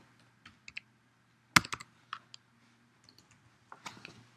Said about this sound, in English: If I type in your password correctly